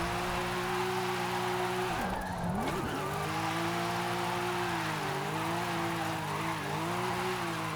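A drift-built car in Forza Horizon 5 slides on throttle alone, its engine droning steadily at high revs with pitch dipping and rising, tires hissing throughout, loud and continuous.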